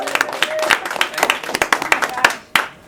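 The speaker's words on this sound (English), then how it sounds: "Can we give him a round of applause?" A round of applause for a teacher at a high school jazz festival clinic, close, loud individual claps from a smallish group with an uneven rhythm, trailing off near the end.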